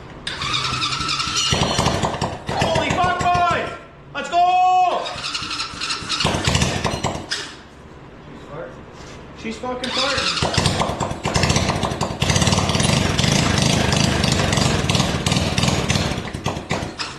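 A free quad bike's engine cranks and fires up with no exhaust fitted, its raw, loud, uneven rasp surging and dropping, stalling briefly before revving hard again and running on, with the carb likely untuned.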